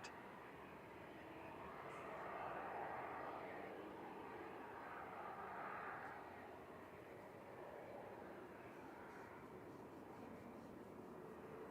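A VistaJet Challenger 850 business jet lining up for departure at Manchester Airport gives a steady, distant engine roar that swells gently and holds for about twelve seconds.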